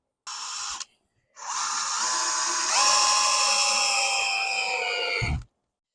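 A power drill whines as it drives screws into a scrap-wood Christmas craft: a short burst, a pause, then a longer steady run that rises in pitch and stops abruptly.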